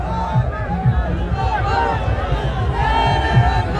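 A large crowd at Hanuman Beniwal's Satta Sankalp Yatra rally at Salasar Dham fills the air with a loud, continuous babble of many voices and scattered shouts, close and steady throughout.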